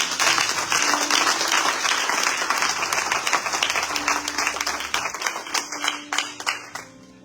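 A church congregation applauds together, a dense, steady wave of clapping filling the room and thinning into scattered claps toward the end, with no speech over it.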